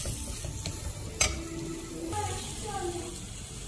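Tomatoes stirred and frying in masala in a pan for a fish head curry, a continuous sizzle with scraping spoon strokes and a sharp clink of utensil against the pan partway through.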